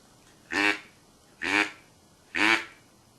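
A duck call blown softly with low air, giving three evenly spaced, short, quiet nasal quacks close up, alone without speech.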